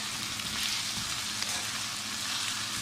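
Chicken korma masala sizzles steadily in the pot as it is mixed, a constant bright hiss with faint low stirring knocks underneath. No voices.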